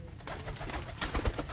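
Pigeons on a rooftop give soft, low cooing calls at close range, faint and brief against a quiet outdoor background.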